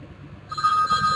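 A telephone rings during a lecture, starting abruptly halfway through as a bright sustained electronic tone over a low room murmur.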